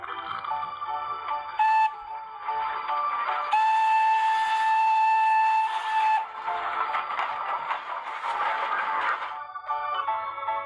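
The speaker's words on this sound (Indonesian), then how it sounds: "Wow, ini ada kereta Thomas." A toy Thomas train plays electronic whistle tones, bright steady beeping notes repeating in short bursts with brief pauses, close and clear.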